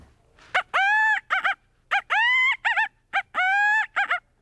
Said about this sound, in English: the Gambel's quail has a territorial call that sounds like this